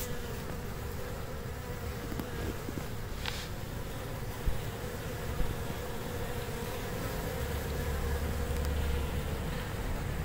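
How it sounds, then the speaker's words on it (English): Honeybees buzz at the hive entrance on a mild February day, bringing in red maple pollen, a steady, dense drone of many wings close to the microphone, with some wind noise underneath. "And here's the bees."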